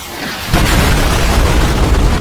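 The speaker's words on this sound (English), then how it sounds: "Eggman confidently sends Sonic into space to explode and die" Explosion in the Sonic Adventure 2 video game, a sudden loud blast after a low rumble, followed by a sustained roaring boom that lasts about two seconds.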